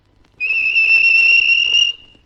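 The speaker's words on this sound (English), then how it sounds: "The whistle blew" James the steam engine sounds one steady, shrill two-tone whistle blast, loud and close, held for about a second and a half before cutting off.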